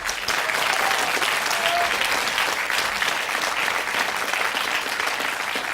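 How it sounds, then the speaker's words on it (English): Steady, sustained applause from a game show studio audience, many hands clapping continuously at an even level for several seconds. "Let's give him a big round of applause."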